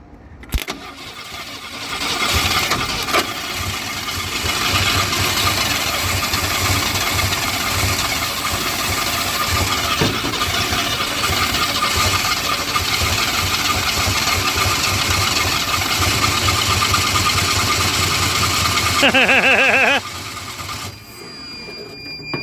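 A rare GM truck engine cranks over with no fuel and a smoked carburetor, a close, continuous mechanical churning that lasts about twenty seconds and then stops.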